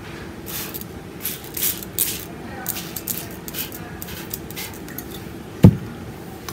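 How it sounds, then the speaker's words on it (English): A hand spray bottle mists water onto a mixed media artwork, giving a series of short, sharp hissing spritzes in irregular bursts, close and clear, with a brief knock near the end. "I'm going to spray it with water."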